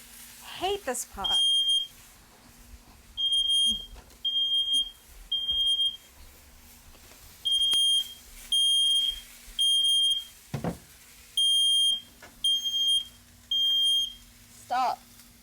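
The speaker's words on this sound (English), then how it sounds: "Smoke alarm! Hate this part." A kitchen smoke alarm, set off by cooking, beeps loudly in repeated bursts, about ten shrill pulses with short gaps, along with brief background noises between them.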